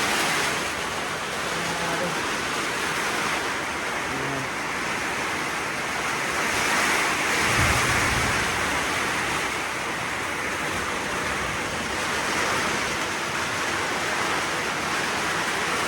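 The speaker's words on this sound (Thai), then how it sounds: "ฝนตกหนักมื้อนี้เนาะทุกคนเนาะ ตกหนักแห้งเลย พี่น้อง ทั้งฟ้าทั้งลม" Heavy rain pours down with strong wind during a storm at a house, a dense continuous roar with a brief low thump partway through.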